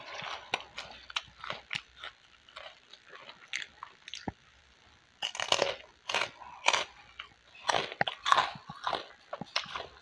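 Someone eats spicy kerupuk crackers close to the microphone, with crisp bites and crunchy chewing coming in irregular bursts and short quiet gaps between mouthfuls.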